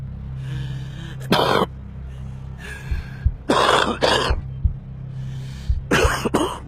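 A smoker's cough: several separate bouts of harsh, rasping coughing and throat clearing, close and fairly loud, spread across the clip over a low steady background hum.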